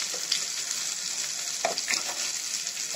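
Chicken with turmeric and salt is sautéed in a pan for chicken bhuna khichuri, a bright continuous sizzle with occasional scraping stirs, loud and close.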